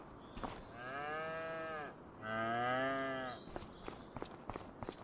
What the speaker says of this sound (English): The cattle just come right in the damn door.